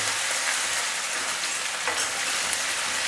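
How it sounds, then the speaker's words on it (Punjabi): Finely chopped garlic cloves and about an inch and a half of minced ginger fry in a pan for palak dal, giving a steady, close, even sizzle and crackle throughout with no voices. "ਇਹਨਾਂ ਨੂੰ ਸਭ ਤੋਂ ਪਹਿਲਾਂ ਭੁੰਨ ਲੈਂਦੇ ਹਾਂ ਜਿਵੇਂ ਆਪਣਾ ਅਦਰਕ ਤੇ ਲਸਣ ਥੋੜਾ ਜਿਹਾ ਭੁੰਨੀ ਜਾਂਦਾ"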